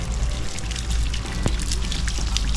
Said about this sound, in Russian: Очень красивый водопад.